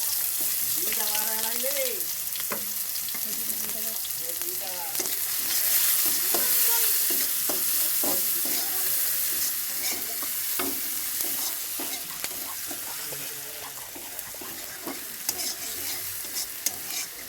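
Onions fry in a pan while being stirred, giving a steady sizzle with frequent scraping strokes of a spoon, close and constant throughout, with a voice briefly speaking early on.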